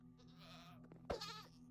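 A goat in a video game lets out a short, sharp bleat a little past the middle, standing out against a low background hum and softer rustling.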